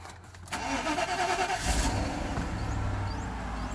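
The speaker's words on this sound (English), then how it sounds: "Okay, the engine started right up." A Mercedes car engine cranks briefly and catches from cold, then settles into a steady idle close by, with no one speaking.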